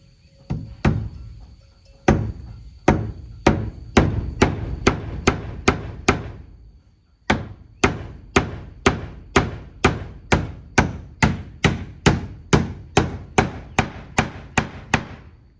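Steady hammering, dozens of sharp ringing blows in quick regular rhythm, with a brief pause midway before the strikes resume at the same pace.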